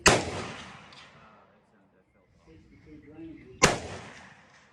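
Two loud rifle shots fired with open sights at a 200-yard gun club range, each a sharp crack with a long ringing decay, spaced several seconds apart with a brief murmur of voices between them.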